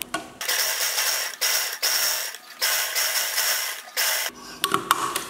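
A sewing machine stitches the side seam of a chudithar top in several short runs of rapid clattering stitching, each broken by a brief pause, close by and without speech.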